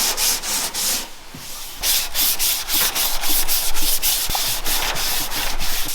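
A sanding block scrubs back and forth across spot repairs on a car hood, a loud close rhythmic rasping of repeated strokes with brief pauses, no one talking.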